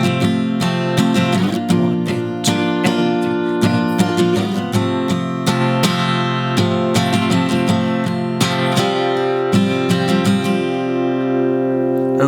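An acoustic guitar strums the brief instrumental section of a song in a steady, rhythmic pattern of ringing chords, close and clear throughout.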